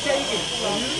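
A brazing torch hisses steadily while heating HVAC pipe in a college workshop, a brief close rushing sound with a voice faintly present.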